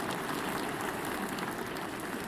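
Dense clapping applause from a group, a steady even patter of many hands filling the space without pause.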